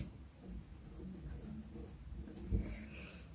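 Marker or chalk writing on a board in a school grammar class, a soft continuous scratching and tapping at low level with faint room noise.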